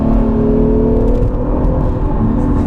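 A 2017 Acura NSX accelerates hard, its engine climbing in a loud, rising whir and rumble heard from inside the car, with no talk over it.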